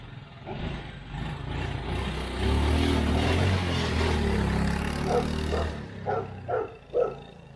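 A 1986 Honda TRX70 ATV with a freshly tuned carburetor runs close by with a raspy, buzzing engine drone, then gives several short throttle blips before settling.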